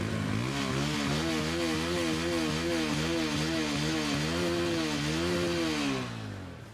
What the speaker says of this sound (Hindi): एग्जॉस्ट की बात हो रही है तो एग्जॉस्ट नोट कैसा है दोनों बाइक्स का